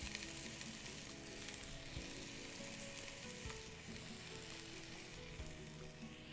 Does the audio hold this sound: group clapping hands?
no